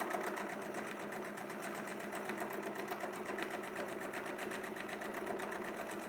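Sewing machine stitching quilt fabric in a steady, fast, even mechanical whir and clatter that runs unbroken and fairly close, with no voices over it.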